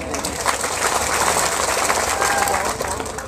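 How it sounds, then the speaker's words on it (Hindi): An audience claps after a ghazal recital at an Urdu poetry gathering, a steady wash of applause with a crowd murmur beneath, even in level throughout. "आप ताली बजा सकते हैं"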